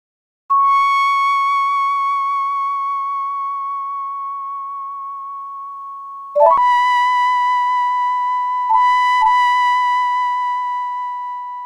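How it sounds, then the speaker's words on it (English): An OPL3 FM-synthesised lead voiced like a piccolo trumpet, a sustained bright tone with a rich stack of harmonics and gentle hand-applied vibrato, holding one long note, then dropping briefly and returning for two more sustained notes, played alone. "Next, this piccolo trumpet kind of lead."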